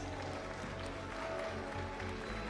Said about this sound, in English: But of course, please, can I have a round of applause for Hafiz?